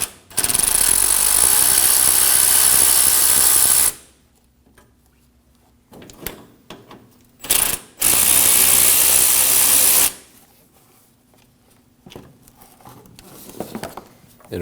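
A ratchet removes the 10mm bolts holding the AC condenser to the radiator of a 2016–2022 Honda Pilot. Two long, loud, buzzing bursts of power-tool rattling are separated by quiet handling clicks and clinks.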